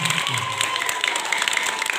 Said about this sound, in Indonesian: Tepuk tangan dulu semuanya dulu.